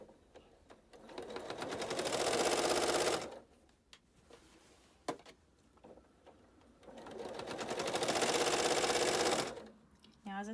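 A sewing machine stitches slowly through a quilt in two long, steady runs, its needle chattering close and loud, with quiet pauses and small handling clicks between bursts.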